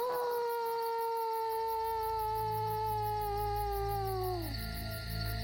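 A single long, rising-then-steady wolf howl imitated by a human voice at night in dense foliage, held for several seconds before tapering off, with a low rumble underneath toward the end.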